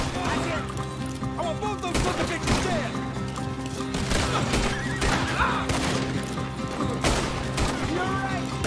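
A horse in the video game Red Dead Redemption 2 whinnies and neighs loudly amid bursts of gunfire and hoof clatter, a dense, continuous in-game mix.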